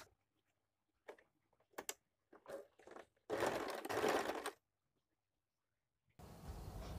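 A sewing machine stitches along the side seam of a strip of fabric for a simple women's top, running in a loud steady burst for about a second, then starting again near the end, after short scattered handling clicks.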